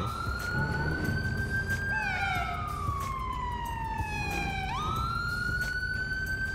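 A police car siren in GTA 5 wails steadily nearby, its pitch sliding down and then sweeping back up over a low engine rumble.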